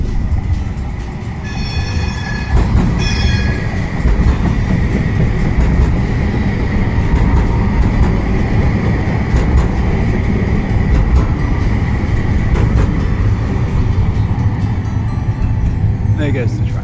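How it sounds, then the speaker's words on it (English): A tram passes through a city street in heavy rain, its steady low rumble and rolling rail noise holding loud and close throughout, with faint squeals near the start and the end and a constant wash of rain underneath. "A tram coming."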